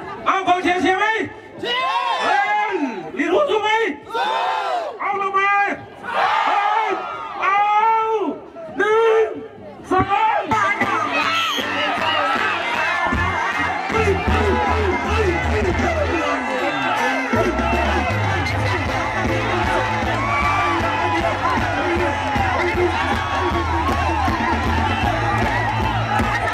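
Crowd of supporters cheering and shouting at an Akha New Year contest in Thoet Thai, Mae Fa Luang, Chiang Rai, with an announcer talking loudly over them at first before the cheering swells into a continuous roar with whoops.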